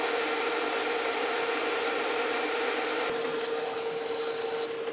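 A metal lathe takes a steady cut on a bronze bearing, giving a continuous close rasping hiss over the machine's hum, with a brighter, higher scraping tone joining midway before easing off near the end.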